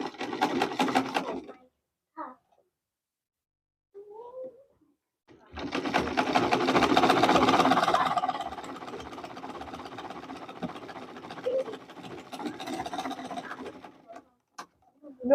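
Domestic sewing machine stitching the seam of a Queen Anne neckline dress, fabric joined right sides together: short bursts of steady whirring, a long close run in the middle, and a later stretch that pauses and restarts.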